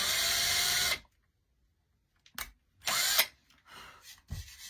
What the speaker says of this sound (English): I am just going to start my little holes with my drill